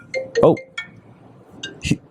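A phone ringtone sounds as a few short, bright tonal bursts spread across about two seconds, moderately loud and close, with no talk over it.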